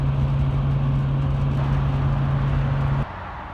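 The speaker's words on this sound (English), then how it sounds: "Alright, let me get back to driving." A car being driven, with a loud, steady engine drone and road rumble from inside the cabin that holds level and then drops off abruptly near the end, no talking.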